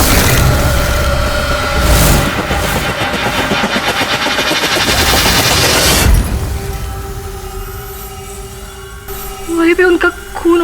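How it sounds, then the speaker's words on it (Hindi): Rapid bursts of gunfire rattle loudly for several seconds, then stop abruptly, leaving a quieter hum and a brief voice. "चलाओ बिंदिया, गोली चलाओ"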